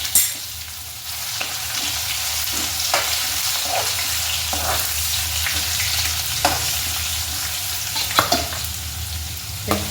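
Asafoetida, garlic, dried chili and bay leaf fry in hot oil with a loud, steady sizzle, broken by sharp crackles and spits, no talk.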